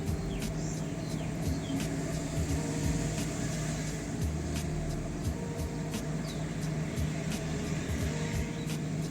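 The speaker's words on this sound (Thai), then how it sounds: "ตอนนี้รถก็กำลังยกขึ้นอยู่นะครับ" The AHC height-control suspension of a 2001 Lexus LX470 raising the vehicle, heard as a steady low motor hum with a faint whine, interrupted by occasional light clicks.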